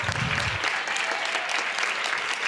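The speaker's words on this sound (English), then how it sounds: "One final round of applause for all of our honorees." Audience at a school board meeting applauding honorees, a dense, steady wash of clapping from many hands that fills the room evenly from start to finish.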